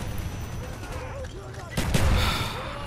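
Mortar fire in the Call of Duty Black Ops multiplayer video game: a heavy booming blast swells in near the middle and rumbles on, over a busy bed of distant gunfire and game noise with voices mixed in.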